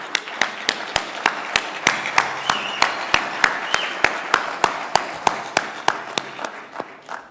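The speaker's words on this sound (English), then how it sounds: "just to give another round of applause to Umar" Steady rhythmic clapping from a forum audience at a boxing event, sharp regular claps about three per second, fairly close and uniform, continuing without talk before tapering at the end.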